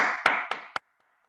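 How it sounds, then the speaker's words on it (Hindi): Three sharp hand claps ring out close and evenly spaced, then stop abruptly into silence. "मैं आप सभी के लिए एक बार जोरदार तालियां बजाना चाहता हूं।"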